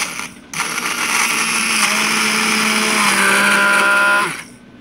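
An electric blender whirs loudly and steadily for about four seconds while mixing homemade mango ice cream with evaporated milk, starting abruptly and winding down at the end, with no talking.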